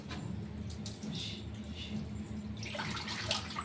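Water is poured over a part of an aqua water filter to wash it, a steady, close splashing flow like a running tap, heard alone without talk.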